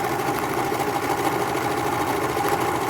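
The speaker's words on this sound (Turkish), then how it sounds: "hem kesiyor gördüğünüz gibi hem de güzelce dikişini atıp örgüsünü örüyor" A Singer 14SH654 overlock machine cuts and stitches fabric at high speed, a steady loud mechanical whir with a fast even rhythm that continues without a break.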